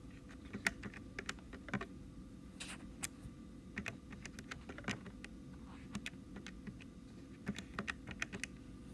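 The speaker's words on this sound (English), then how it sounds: "Then just type into our calculator." Sparse, crisp key presses on a calculator, individual taps spaced irregularly over a quiet background, close but soft, no speech.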